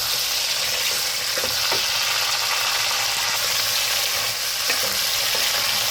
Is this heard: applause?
no